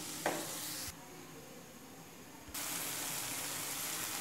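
Mutton sizzles in a pan for mutton gravy, a steady close hiss that briefly drops quieter in the middle before rising again.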